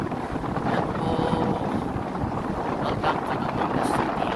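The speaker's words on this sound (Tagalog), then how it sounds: "Ayan po ang lakas ng hangin" Strong, continuous wind roars across the microphone on a ship crossing from Bacolod to Dumangas, Iloilo, mixed with the low rumble of the boat engine, with no pauses.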